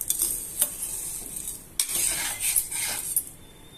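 Ingredients for kandi podi, a dry roasted powder, are stirred in a pan with a metal spoon, making repeated scraping clinks over a faint sizzle.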